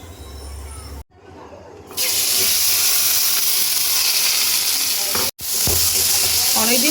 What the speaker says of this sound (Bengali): অনেকদিন পর উচ্ছে আলু ভাজা করছি